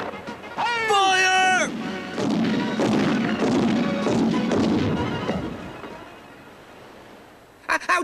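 Cannons fire from a pirate ship in a 1991 animated cartoon, delivering heavy booms and crashing impacts amid excited shouting voices, over a roaring sea-like wash that fades before a final burst of sound.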